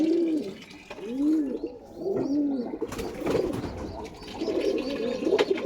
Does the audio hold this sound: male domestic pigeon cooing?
yes